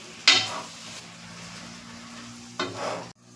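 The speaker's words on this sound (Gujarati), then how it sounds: "પાલક એડ કરી અને આપણે બરાબર મિક્સ કરી લેશું" Spinach is being stirred in a hot pan while making a dhaba-style palak dish, with a close, soft sizzle and two brief scraping clatters of a spoon against the pan, one at the start and one near the end.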